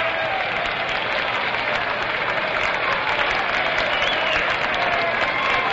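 A 1961 World Series baseball stadium crowd at Yankee Stadium cheers and applauds loudly and continuously as former Yankee manager Casey Stengel walks toward an exit, a dense sustained roar.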